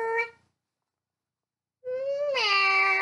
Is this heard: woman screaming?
no